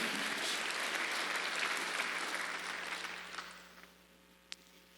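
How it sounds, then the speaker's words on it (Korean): A church congregation applauds during a Sunday worship service, a full roomy wash of many hands clapping that holds steady, then tapers off and dies away, ending with one sharp isolated tap. "박수 받으세요."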